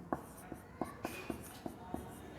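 Chalk or marker writing on a board during a Class 12 maths lecture on functions, a series of short, faint taps and strokes at a steady rhythm, close by and quiet, with no talk.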